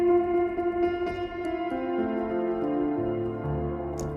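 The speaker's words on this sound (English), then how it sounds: "You have a modulation for the reverb." Sustained synth tones washed in lush reverb with slow modulation from the Native Instruments Raum plug-in, layered notes stepping down in pitch and ringing into a shimmering, moving tail, no talk.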